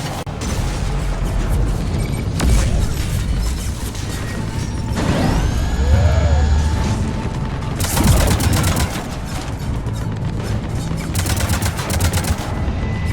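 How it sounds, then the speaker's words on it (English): Cannons fire in the Mass Effect 3 Omega mission, a loud, continuous barrage of heavy booms and rapid gunfire with whooshing projectiles, dense and sustained throughout. "Cannons engaged."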